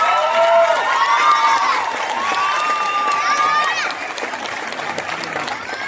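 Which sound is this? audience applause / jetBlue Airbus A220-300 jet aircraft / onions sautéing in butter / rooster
audience applause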